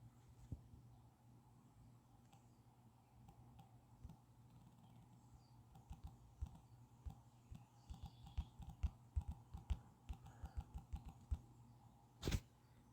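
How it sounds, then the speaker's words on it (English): A computer keyboard clatters under quick, uneven keystrokes, quiet at first and then busier, with a brief loud knock near the end. "Just typing in gift of healing."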